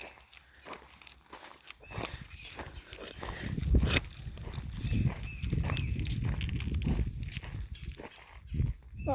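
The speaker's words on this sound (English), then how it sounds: "I keep hearing freaking other footsteps" Uneven footsteps crunch near an abandoned-looking house outdoors, a series of close, irregular thuds and scuffs at moderate loudness against a quiet background.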